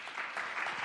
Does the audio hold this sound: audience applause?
yes